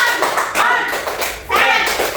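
A classroom of pupils does a rhythmic concentration clap, bursts of loud, close clapping in quick patterned groups separated by brief pauses, with faint voices chanting along.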